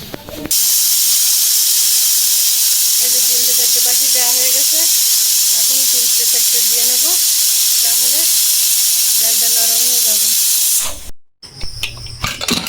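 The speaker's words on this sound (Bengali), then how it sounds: "এই যে আমি প্রেশার কুকারটা এই যে গ্যাসের চুলো জ্বালিয়ে বসিয়ে দিয়েছে" A pressure cooker on a lit gas stove vents a loud, continuous steam hiss that lasts nearly the whole stretch, with a voice speaking in bursts underneath before an abrupt cutoff near the end.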